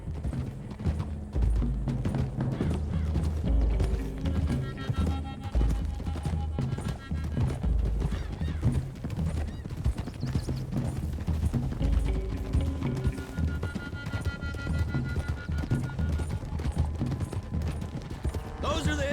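Rapid hoof clip-clop of several horses galloping over a continuous rumble in Red Dead Redemption, with game music and ambient effects layered underneath.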